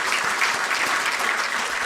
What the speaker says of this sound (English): I believe we can do another big round of applause for His Excellency the President